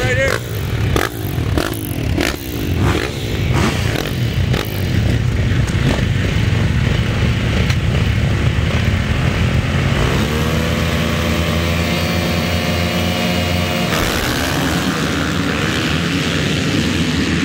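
Motocross dirt bikes racing at Southwick MX in a pro class qualifier, engines screaming loudly and shifting through gears as bikes blast past, with an announcer talking over the roar.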